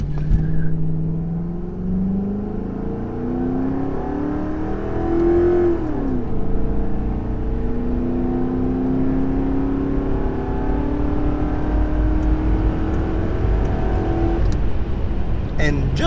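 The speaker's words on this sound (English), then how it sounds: "as we pull on to the highway, it's time to see how quick its acceleration is" A Mercury Grand Marquis sedan accelerates hard from a standstill onto a highway, its engine note climbing steadily through a long continuous pull with one gear change, loud and close from inside the cabin, with a voice talking over it.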